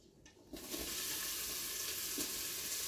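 A large chopped onion drops into a hot pan and bursts into a loud, steady sizzle about half a second in, continuing evenly with a faint stir partway through.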